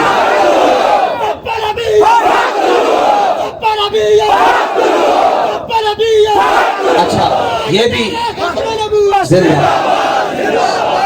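A large crowd chants religious slogans in loud, repeated bursts of shouting, with a voice speaking over and between the chants throughout.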